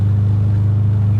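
1969 Volkswagen Karmann Ghia convertible accelerating, a loud steady low engine drone heard from inside the car, with no talking.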